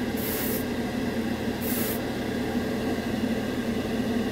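Airbrush hissing out acrylic model paint in two short, bright bursts of spray over a steady background hum, with no voices present.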